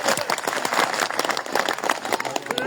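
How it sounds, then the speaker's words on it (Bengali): Sustained applause from a crowd at a political gathering welcoming a well-known former chairman into the BNP, dense clapping filling the whole stretch at steady strength. "এজন্য আমরা সকলেই একটা হাততালি দেই ওনার জন্য"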